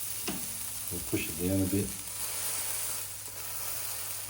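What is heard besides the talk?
steak sizzling in a frying pan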